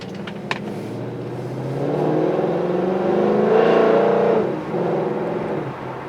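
A 2013 Ford Mustang GT with a Borla exhaust idles with a deep burble, then revs up to a loud throaty roar for a few seconds before easing back down.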